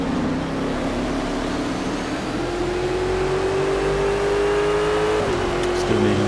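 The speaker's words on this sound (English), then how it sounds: "And here I'm just going in on the power, but get a bit of wheel spin." Chevrolet Corvette C7.R race car engine in Project Cars at the Nordschleife, accelerating with wheel spin; a steady loud engine drone with a pitch that climbs gradually, then drops as the car shifts near the end.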